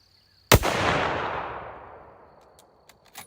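One loud, sharp shot from a Savage Axis II precision rifle, fired outdoors at a pumpkin, cracks out alone and rolls away in a long fading echo, with faint clicks afterward.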